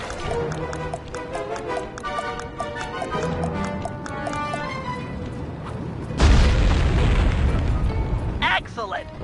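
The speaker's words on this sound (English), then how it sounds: "Place the dynamite when you get near the anchor, or kaboom!" Dynamite explodes in the video game Sly 3, a single loud, broad blast breaking in after a stretch of game music and lingering as a rumbling roar.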